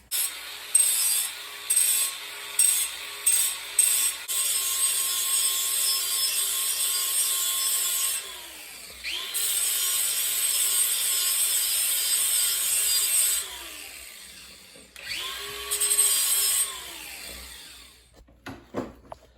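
A truck exhaust pipe is deburred by hand with a series of rasping, rhythmic strokes, starting with quick separate scrapes and settling into longer steady grinding passes. The work is close and fairly loud, pauses briefly partway through, and carries no speech.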